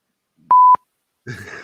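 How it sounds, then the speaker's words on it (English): An electronic beep from a big red button pressed on purpose: one steady tone lasting about a quarter second and framed by sharp clicks, followed after a short silence by people talking. "I just felt like beeping you just for the heck of it"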